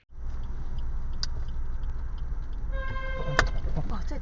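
A car horn in traffic, a short honk followed by a longer sustained blast over a steady in-car road rumble, fairly close and clear.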